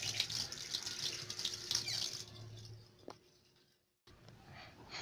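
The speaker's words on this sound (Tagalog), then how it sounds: "Banlawan itong mabuti." Running tap water at a sink while hands are rinsed, a steady close hiss of flowing water that fades out near the end before a short lighter trickle returns.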